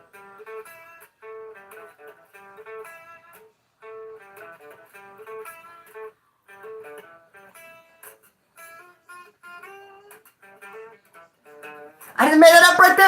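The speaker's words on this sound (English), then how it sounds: "I am going to play guitar with just 3 strings." A guitar strung with only three strings plays a quiet, plucked melodic riff of short repeating phrases, then a loud burst of noise cuts in at the end.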